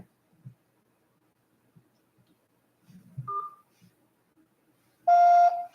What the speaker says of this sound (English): Please press 8 and wait for the beep.